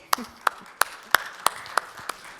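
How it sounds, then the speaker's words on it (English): At a student-opportunities talk just before Q&A, the room applauds the speaker as about eight sharp, evenly spaced claps ring out at a slow, steady pace, sounding like only a few hands. "Please, let's give a big applause."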